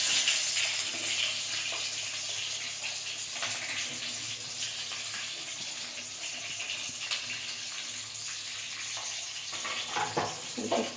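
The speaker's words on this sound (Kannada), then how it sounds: "ಅಲ್ಲಿವರೆಗೂ ನಾವು ಈ ಥರ ಎಣ್ಣೆಯಲ್ಲಿ ನಾವು ಇದನ್ನು ಹುರ್ಕೊಬೇಕು." Garlic and green chillies frying in hot oil give a steady, close sizzle that crackles and hisses continuously throughout, with occasional stirring clinks and no talking.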